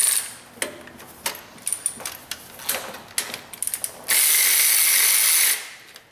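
Hand ratchet loosening an alternator bolt on a Toyota Camry with a crank-no-start fault, a series of close, quick clicking bursts, then a steady loud whirring run near the end.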